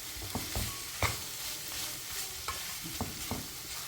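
Sliced bitter gourd dry-frying in a pan, giving a soft continuous sizzle broken by several scraping stirs and light knocks of a spoon against the pan, close and fairly quiet.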